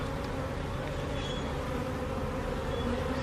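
A dense backyard swarm of bees drones in a steady, unbroken buzz that stays close and even in level throughout, with no voices.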